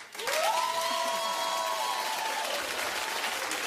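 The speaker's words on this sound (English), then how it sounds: "Clap if you just don't like him." A talk-show studio audience breaks into steady applause with a few cheers, dense and sustained throughout, with a brief rising tonal sweep near the start.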